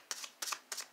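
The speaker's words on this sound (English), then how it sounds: "See, they're kind of hard for me to shuffle." Large tarot cards riffled by hand, three short crisp bursts of cards shuffling at an even rhythm, close and alone with no talking.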